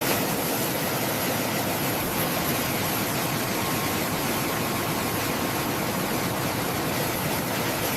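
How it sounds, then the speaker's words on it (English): Four Rolls-Royce AE2100 turboprop engines on a ShinMaywa US-2 seaplane make a steady, dense roar with a faint whining tone, unbroken and even in loudness from start to finish, with no voices. "Powered by 4 Rolls-Royce AE2100 turboprop engines, it delivers excellent reliability, endurance, and performance."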